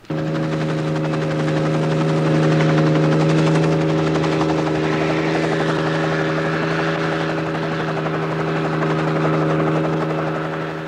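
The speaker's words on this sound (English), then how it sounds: "The helicopter will come out from Derry to lift them above the hedgerows" A helicopter is heard nearby at a bomb disposal scene, its steady rotor thud and turbine whine holding at a constant loud level throughout with no talking.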